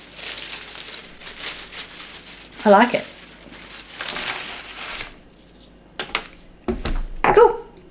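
Paper from an octopus craft crinkles and rustles in a few close bursts of handling, with people talking briefly over it.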